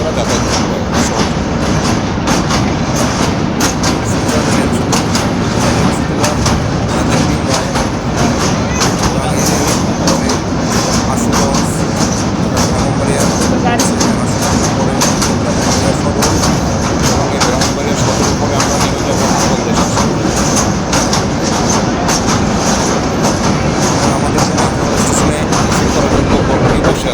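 Train crossing the Bhairab rail bridge on the way from Dhaka to Akhaura, a loud, continuous rumble with rapid rhythmic wheel clatter heard from on board, steady throughout.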